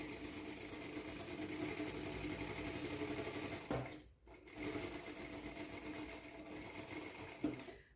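An electronic sewing machine stitching, a steady buzzing hum that stops briefly and then starts again, with a small click near the end, quiet and without talk.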